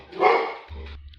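An indoor dog gives a single short, close bark that trails into a brief low growl or grumble, fairly loud against a quiet room.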